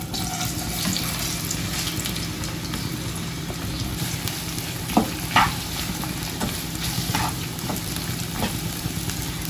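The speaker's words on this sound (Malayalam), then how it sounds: "ഇനി ഈ അരിഞ്ഞു വെച്ചിട്ടുള്ള പഴം ഈ നെയ്യിലേക്ക് ഇട്ട് കൊടുക്കുകയാണ്." Chopped banana frying in hot ghee, a dense continuous bubbling sizzle up close with scattered light clicks and taps from a utensil.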